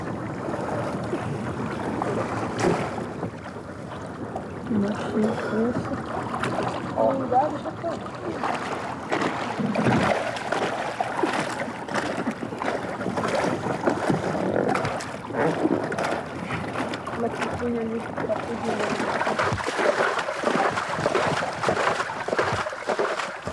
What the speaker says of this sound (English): The father paddles furiously as his son desperately tries to scoop out the water.